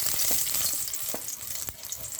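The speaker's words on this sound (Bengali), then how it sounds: "ডিমটা প্রথমে ভেজে নেব," An egg fries in white cooking oil in a wok, giving a steady close sizzle with bright crackling and a few sharp pops. There is no talk.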